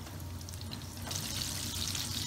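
Spiced potato croquettes deep-fry in baskets of hot oil with a dense, even bubbling hiss that gets brighter and stronger partway through.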